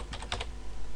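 A computer keyboard clicks as account details are typed in, a short burst of about four quick close keystrokes followed by quiet.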